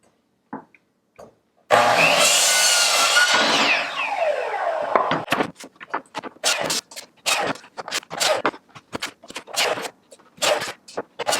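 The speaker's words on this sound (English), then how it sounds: "now we got the table saw because we got to cut some notches out for the ends there" A table saw spins up with a loud whine and cuts a wood plank for a window box planter, followed by a rapid series of short, sharp cutting bursts while notches are cut.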